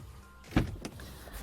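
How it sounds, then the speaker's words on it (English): A power blind on the panoramic sunroof of a 2012 Vauxhall Zafira Tourer gives a brief electric motor whir with a soft thump inside the cabin, short and fairly faint, with no voices. "if you ever get tired of looking at the sky, then a power blind will glide across to hide it"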